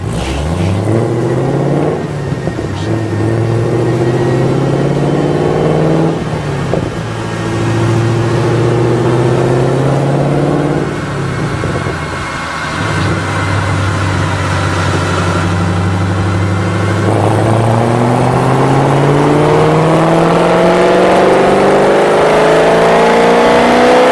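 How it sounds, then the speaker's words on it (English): A Camaro V8 fitted with BBK long-tube headers revs on a dyno, loud and close, climbing through repeated sustained pulls with rising pitch, brief dips between runs, and a deep, throaty exhaust roar throughout. "Let's put those BBK full lengths to the test on our dyno."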